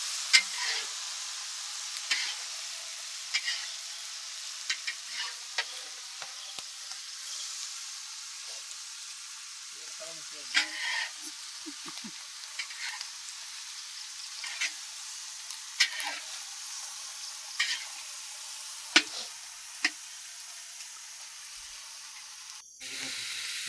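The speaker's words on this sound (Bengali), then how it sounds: "তো চিকেনটাকে ভালো করে কষিয়ে নেবে, কষানো চলছে এখন।" Chicken being stirred and fried in a pan for a big village feast, a continuous sizzle and hiss broken by repeated clinks and scrapes of stirring close by, with no talking.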